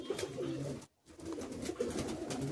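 Soft cooing from Madrasi high flying pigeons in a loft, a continuous chorus of low coos and rustling broken by a brief silent gap, no voices.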